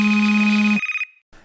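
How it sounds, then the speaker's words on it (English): A phone rings nearby with a loud, steady electronic tone that cuts off abruptly, followed by a brief pause and faint noise. "And it was about that time my phone rang."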